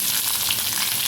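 Peanuts and green chilies crackle in hot oil, a loud, bright, continuous sizzle that stays close and even throughout, with no talking.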